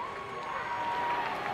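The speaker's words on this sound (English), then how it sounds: "the hometown crowd, you can hear them up here in the booth" A hometown baseball crowd roars and cheers after a home run by Rhys Hoskins, a steady wash of distant stadium noise heard from the broadcast booth.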